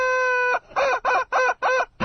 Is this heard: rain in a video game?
no